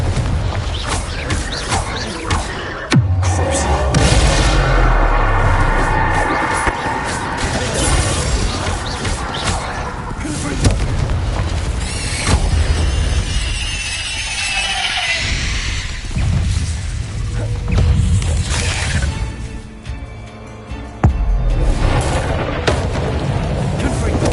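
Confringo explosive spell blasts in Hogwarts Legacy combat: loud booming bursts and crashes recur amid game effects, with someone speaking over part of the action.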